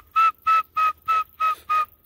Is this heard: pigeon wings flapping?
no